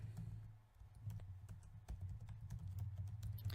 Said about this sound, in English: I'm actually typing around my microphone like an idiot.